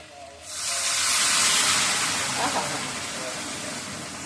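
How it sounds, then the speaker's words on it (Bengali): Fish curry with potatoes surges to a boil after hot water is poured in, a loud hissing, steaming rush that swells up quickly and then settles into a steady bubbling seethe. "কি সুন্দর টকবক করে ফুটে উঠলো দেখলি।"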